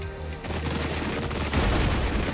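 Artillery submunitions from a DPICM strike burst over targets in the Flashpoint Germany war game, a dense continuous crackle of many overlapping explosions with a heavier surge partway through, loud and sustained without any voices.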